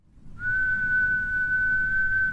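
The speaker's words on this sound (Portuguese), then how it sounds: "caso ouça um assobio distante" A single steady, high whistle held for about two seconds over a low rumbling background, clear and unbroken.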